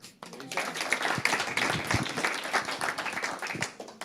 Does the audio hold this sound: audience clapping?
yes